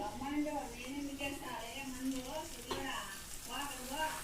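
Beaten egg omelette mix sizzling in hot oil in a pan, a steady frying hiss running throughout beneath a voice talking over it.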